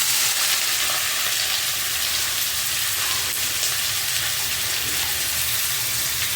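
Chopped onion sizzles and fries loudly in a hot pan for chicken keema fry, a dense, continuous crackle with occasional stirring scrapes.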